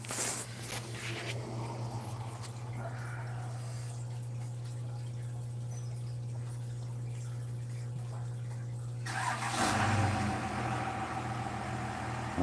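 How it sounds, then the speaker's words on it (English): A diesel truck engine sits in a steady, low, droning rumble for several seconds before the sound rises into a louder, rougher surge near the end, with no talking. "Diesel truck starting. Son started his truck."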